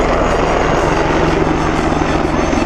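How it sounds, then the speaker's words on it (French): A European combat helicopter built by Germany and France, with a nose cannon and rocket pods, flies at the Avignon air show, its engine and rotor making a loud, dense, steady roar throughout. "c'est un hélicoptère européen fabriqué aussi bien par l'Allemagne et par la France"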